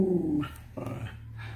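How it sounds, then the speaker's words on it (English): Dog growling low and then letting out a couple of short, sharp barks close by, with no one talking. "Don't come over here and start barking."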